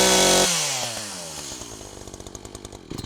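A chainsaw engine revs high and then drops, its rising and falling harmonics settling into a steady, close running drone after being flooded on choke.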